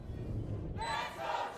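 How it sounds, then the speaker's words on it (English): Esports arena crowd at a VALORANT Game Changers Championship match cheering for the home team, a steady roar that swells into louder shouting, heard at a distance beneath the broadcast. "Crowd getting loud for the home team here."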